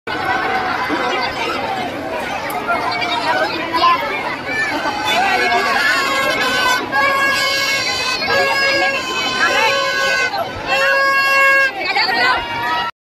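A dense crowd fills a village temple fair for Shri Munjoba Maharaj at Atrawal, lined with rides and toy stalls, in a continuous loud babble of many overlapping voices and shouts with occasional higher calls rising above it.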